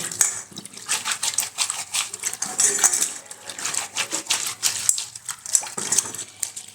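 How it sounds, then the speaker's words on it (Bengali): Soaked soybeans rubbed by hand in a bowl, giving a busy stream of small clicking, rattling and rustling sounds as the beans knock against each other and the bowl, close and continuous. "এগুলোকে ভালো করে এইভাবে একটু ঘষে নেব দুই হাতের সাহায্যে"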